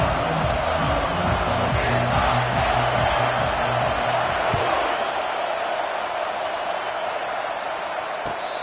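A large stadium crowd at a Penn State Nittany Lions game roars in a steady, dense wash of cheering, with rhythmic low thumps early on that fade as the noise carries on.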